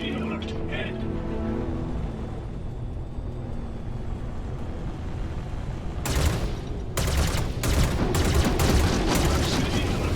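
Weapons fire in the Star Citizen space game, a low rumbling engine bed that breaks into rapid bursts of loud, close gunshots in the second half.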